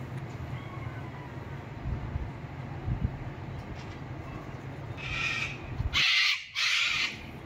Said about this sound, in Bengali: তো পাখির ডাকগুলো শুনতে পাওয়া যাচ্ছে,